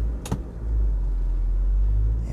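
A 1998 Honda CR-V pulls away through a residential neighbourhood in Semarang, its low engine rumble steady and moderate after a brief sharp knock near the start, with no one speaking.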